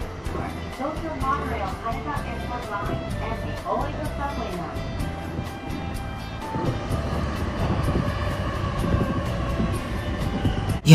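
A Yamanote Line train in Tokyo rumbles steadily along the tracks with a continuous rolling clatter, heard from inside, with a voice faintly underneath.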